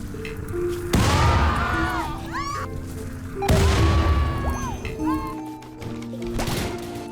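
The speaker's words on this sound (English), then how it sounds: "exploding every single one of them as we hit mortar shells" Mortar shells explode in the RimWorld video game, two heavy booms a few seconds apart, each followed by whistling and squealing game effects, with a lighter thump near the end.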